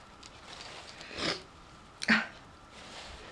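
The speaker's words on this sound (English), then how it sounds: "I now need to blow my nose" A person blows their nose, two short honking bursts, quiet and close, with a brief pause between them.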